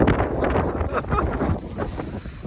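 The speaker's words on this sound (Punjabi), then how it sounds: "ਹਵਾ ਚੱਲਦੀ ਹੈ ਕਹਿੰਦੇ ਕਿਵੇਂ ਠੰਡ ਮਹਿਸੂਸ ਹੋ ਰਹੀ ਆ" Steady wind blusters across the microphone, a broad rushing roar with gusty swells, and no talking.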